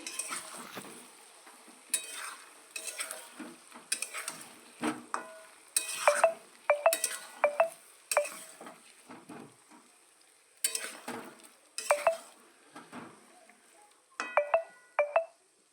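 A spoon stirs chicken biryani ingredients, including green chili paste, in a cooking pot: irregular bursts of scraping and stirring strokes with occasional sharp metallic clinks, separated by quiet gaps, close and moderately soft.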